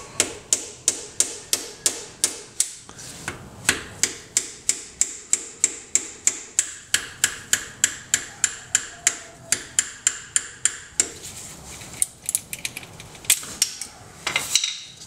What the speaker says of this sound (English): there's this little pin right here that you're just gonna want to hammer out